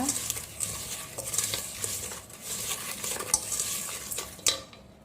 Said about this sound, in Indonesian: Langsung kita tuang aja, kita aduk ya.